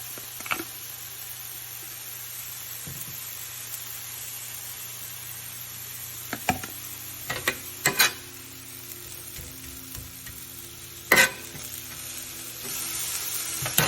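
Cheesesteak meat and vegetables cook under a lid in a pan, a steady low sizzle and hiss broken by a few sharp clicks and knocks, including a loud clank near the end.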